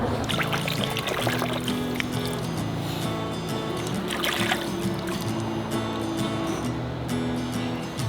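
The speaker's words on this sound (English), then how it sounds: "let's go wash our mushrooms" Mushrooms being washed with water outdoors, a continuous close splashing and pouring with squelchy handling sounds and occasional drips throughout.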